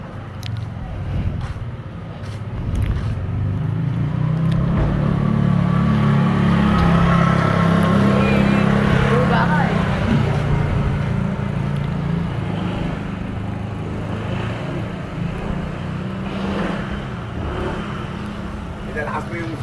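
Scooter with upgraded CVT fly balls accelerating on a test ride, a steady loud engine drone building and holding throughout with road and wind noise, voices talking over it.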